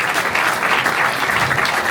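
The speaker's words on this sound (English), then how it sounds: "So give yourselves a round of applause." An audience at a comedy club chess event in Hamburg applauds, a dense, steady wash of many hands clapping at once, fairly close and continuous with no talking.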